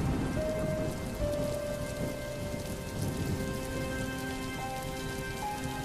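Heavy rain pours steadily and loudly, a dense unbroken hiss of falling water with faint rumbling underneath and no voices.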